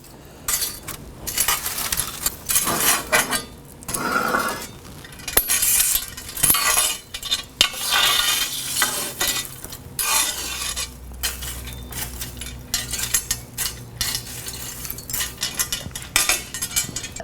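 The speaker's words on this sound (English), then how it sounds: "I am going to use my ash scraper and get right in here and just pull these coals forward." An ash scraper drags live coals forward across the firebed of a Tuscan-style grill, giving repeated close scraping, clinking and rattling strokes of metal against charcoal.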